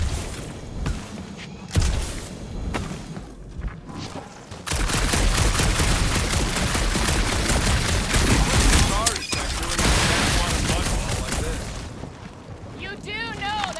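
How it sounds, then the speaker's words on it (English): Gunfire in the Guardians of the Galaxy video game: scattered shots at first, then a dense, continuous barrage of blasts lasting several seconds, with game sounds and a brief voice near the end. "You do know that aimless shooting isn't gonna scare the monsters away, right?"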